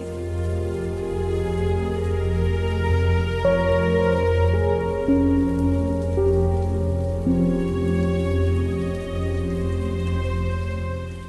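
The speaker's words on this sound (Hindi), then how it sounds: "या अल्लाह, ये बारिश कब रुकेगी?" Steady rain falls continuously at night, a dense even patter drumming on surfaces throughout, loud and close with no voices.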